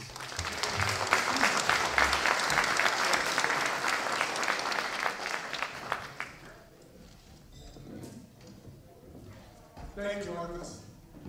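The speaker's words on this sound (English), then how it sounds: "Give a round of applause, please." Audience applause for a panel moderator at a talk, loud and sustained clapping for about six seconds, then fading to quieter scattered claps with brief talk and a short renewed burst near the end.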